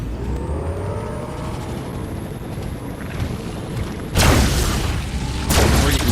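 A plasma rifle fires in the VR shooter Farpoint, loud bursts cutting in over a steady, rumbling background drone, with two heavy blasts near the end.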